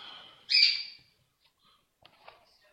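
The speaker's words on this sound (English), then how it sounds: "If you hear any dogs barking or parrots squealing" A pet parrot indoors gives one loud, sharp squeal, followed by a few faint chirps and small clicks in an otherwise quiet house.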